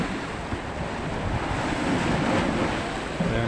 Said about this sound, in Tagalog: Lakas na naman ang alon dito.